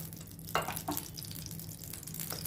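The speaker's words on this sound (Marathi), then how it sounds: "आता मिरच्या तळून घेण्यासाठी टाकून घेत आहे" Steady frying sizzle in hot ghee, with a couple of sharper crackles early on as chillies drop into the pan; no voices.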